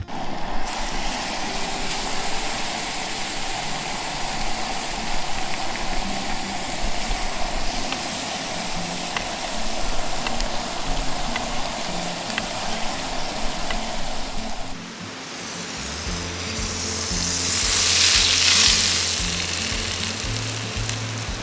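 Steaks sizzling in Kerrygold butter in a hot pan, a steady loud fry that carries on alone, then drops and comes back brighter with a hissing spike, a low mechanical hum running underneath.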